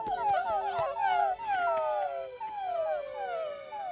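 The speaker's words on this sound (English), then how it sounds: "And don't forget to whimper." Cartoon puppies whimper and howl in high, sliding whines. Several overlapping cries repeat steadily and close up, with no talking.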